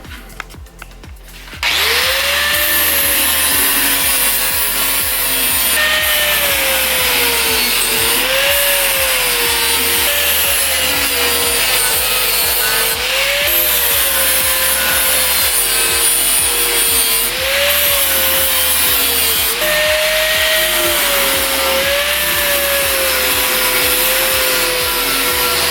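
Close, loud power-tool sharpening of a DIY Fallout 4 Kremvh's Tooth prop blade, a continuous grinding whine that rises and dips in pitch in repeated passes, starting after a brief quiet moment, with no talk.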